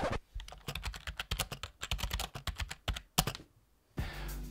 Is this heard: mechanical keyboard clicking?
yes